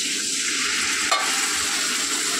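Water splashes into hot masala frying in a pan, setting off a loud, continuous sizzle up close with a brief burst as the liquid hits.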